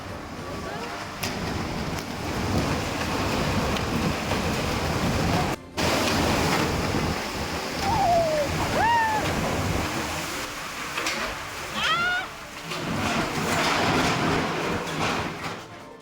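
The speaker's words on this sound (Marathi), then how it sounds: "पुण्यात सोसाट्याच्या वाऱ्यासह मुसळधार पाऊस कोसळतोय" Heavy rain lashes down with strong gusting wind in Pune, a dense, loud, continuous roar of rushing noise with surges of wind buffeting the microphone and brief voices underneath.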